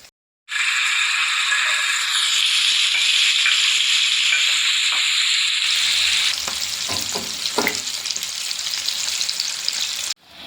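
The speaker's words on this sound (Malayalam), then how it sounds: "ഇനി നമുക്കിതൊന്ന് മറിച്ചിട്ട് മറ്റേ സൈഡ് കൂടി ഫ്രൈ ചെയ്തെടുക്കാം." Masala-coated fish fillets sizzle loudly and steadily in hot oil in a pan, with a bright crackling spray that shifts partway through as the pieces are turned, bringing a few soft scrapes and knocks.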